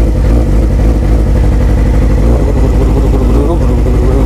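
A big motorcycle with an aftermarket exhaust, not a full system, runs with a loud, close, deep rumble that stays steady, with a voice talking over it.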